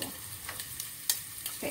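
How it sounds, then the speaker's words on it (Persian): Diced onions frying in a pot for broccoli and cheese soup, giving a soft, steady sizzle with faint stirring scrapes and a few brief clinks, heard up close with no talking. "خب پیازا رو داخل قابلمه مورد نظرمون میریزم، پیازایی که کاملا توجه کنید حالت نگینی خورد شده"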